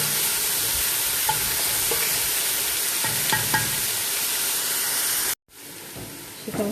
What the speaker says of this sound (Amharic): ሽንኩርቱ በደንብ አድርገን እስኪቀላ እናጥራለን፣ እንጠብሰዋለን።